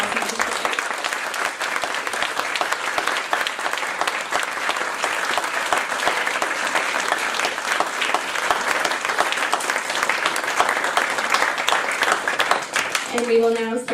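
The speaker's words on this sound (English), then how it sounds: "I would like to ask us all to give another round of applause and congratulations to the class of 2006" Sustained, dense applause from a large audience at a graduate school graduation ceremony in Paris, honoring the graduating class, steady and loud throughout with crowd noise mixed in, and a brief tonal sound at the very end.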